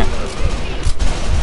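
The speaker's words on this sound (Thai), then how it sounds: "ปืน" Rapid gunfire in the arcade shooter Virtua Cop 2 rattles out as a dense, loud burst of repeated shots with no break, filling the whole short moment.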